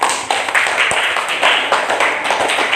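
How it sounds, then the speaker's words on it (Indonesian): Students in a classroom clap together in dense, steady applause lasting a few seconds, loud and close. "Oke, tepuk tangan buat tadi."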